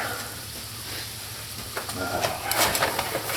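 Salmon cakes sizzle and crackle in a hot pan, a steady close frying hiss with a few sharper pops building toward the end, no voices.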